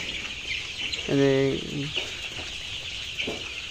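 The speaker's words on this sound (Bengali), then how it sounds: "মুরগি" Chickens on a poultry farm hit by a Gumboro virus outbreak let out one loud, close cluck, followed by a few fainter clucks against a low farmyard hum.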